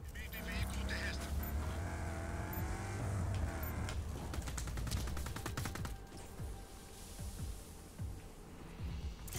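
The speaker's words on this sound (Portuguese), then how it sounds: "Vindo em veículo terrestre" A land vehicle approaches in the video game Just Cause, its engine rising under a busy mix of game gunfire and someone talking throughout, with rapid sharp bursts crackling in the second half.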